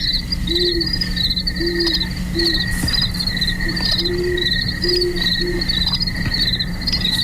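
Great horned owls hoot at night in short low repeated calls, several in a row, moderately distant, under a dense steady chorus of crickets trilling continuously.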